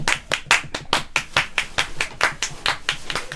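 A studio audience claps in a steady, rhythmic unison beat, loud and close, with about a dozen sharp claps in quick succession at a Christmas video game show.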